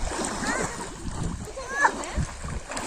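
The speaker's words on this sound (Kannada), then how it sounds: "ಮಕ್ಕಳೆಲ್ಲ ಹೆಂಗ್ ಆಟ ಆಡ್ತಾ ಇದ್ದಾವೆ." Children play and splash in water during a festival outing, with splashes and bursts of young voices mixed together in a steady, lively wash of sound.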